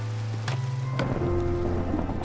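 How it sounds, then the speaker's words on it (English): Steady rain falling in the Minecraft video game, a broad continuous wash with low rumbling underneath and game tones, no talk. "It's raining again? How many times am I going to get rained on?"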